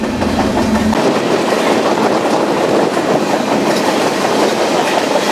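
A freight train rolls loudly on the tracks in fog in Louisiana, a steady heavy rumble and clatter close by, with no voices.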